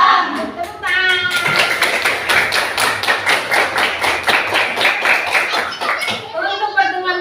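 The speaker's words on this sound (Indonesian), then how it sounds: "Tepuk tangan." A classroom of pupils claps hands together in a fast, steady rhythm of loud sharp claps lasting several seconds, with voices briefly heard before and after.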